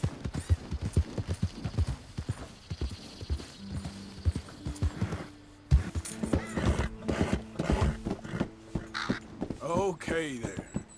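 Horses in Red Dead Redemption 2 gameplay, with brisk clip-clop hoofbeats throughout and a loud neigh near the end, set against game ambience and gunfire-like pops.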